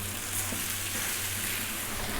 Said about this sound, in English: rice is frying. I hope you can hear that